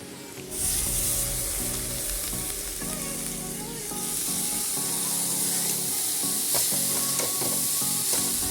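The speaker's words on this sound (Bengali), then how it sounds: "আমি এখন বাঁধাকপিগুলো দিয়ে দেবো ধুয়ে রেখে দিয়েছি" Washed wet cabbage hitting a hot pan for Bengali fried cabbage, a sudden loud burst of sizzling that settles into a steady close hiss and crackle, with faint stirring, no voices.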